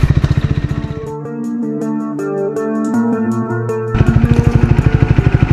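A Triumph Scrambler 400 XC motorcycle engine rumbles loud and close as it is ridden, with steady pulsing firing beats that smooth into a higher tone during an upshift before the throbbing returns.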